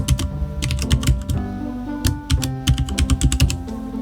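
Keys clacking on a computer keyboard while a name is typed, quick bursts of close, crisp taps separated by short pauses.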